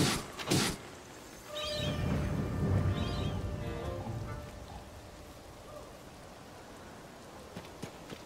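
Steady rain in the video game Tears of the Kingdom patters on surfaces at moderate volume, with a few brief tonal game chimes over it and a thump near the start.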